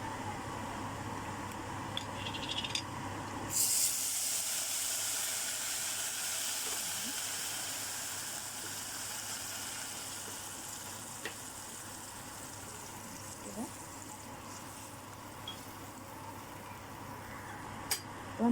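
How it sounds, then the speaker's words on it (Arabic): Vinegar splashed onto garlic frying in a pan sets off a sudden loud sizzle and steamy hiss that settles into a steady crackling fry, with a few small pops and clatters over the continuous sound. "مجرد ما الثوم بقى احمر معايا كده اهو، هننزل بقى بالخل معانا"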